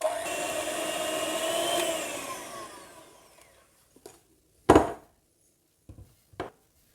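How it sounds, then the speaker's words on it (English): A loud food mixer whirs steadily as it blends quiche pastry into breadcrumbs, then winds down and stops, leaving a few short knocks and clatters. "This mixer is quite loud, so I'll probably mute it"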